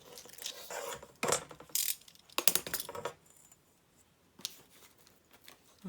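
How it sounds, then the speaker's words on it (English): Scissors snip the white edge off a printed fabric collage piece, a few crisp cutting bursts with short pauses between, close and fairly quiet with no talking. "Just going to cut this edge off so there's not a white border around it."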